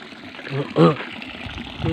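Water rushing strongly into a shallow three-foot outdoor swimming pool, a steady splashing gush with voices talking over it.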